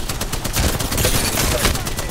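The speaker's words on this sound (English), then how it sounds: "Where are you getting shot from?" Rapid gunfire in Apex Legends rattles nonstop as a dense, loud stream of shots at close range.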